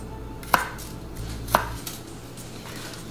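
A knife chops garlic cloves on a cutting board while a grilled pineapple salad is prepared. Three crisp, close chops land about a second apart against a quiet background.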